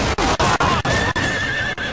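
A horse whinnies loudly and close in a Game of Thrones video game battle, a bright wavering neigh over dense game-style noise with short regular breaks.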